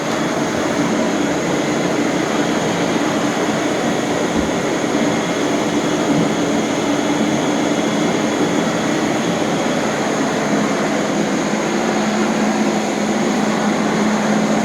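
A Rainbow D4C water-filtration vacuum cleaner runs continuously, its exhaust blowing out in a steady, loud, even whirring roar with no pauses and no voices.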